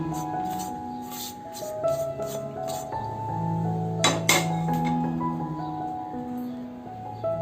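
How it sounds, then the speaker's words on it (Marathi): Roasted coconut is scraped out of a pan with a metal utensil, giving a run of light clinks and scrapes against the pan, close and moderately quiet, with no talking. "आता आपले खोबरे भाजून झाले आहे, ते आपण काढून घेऊ."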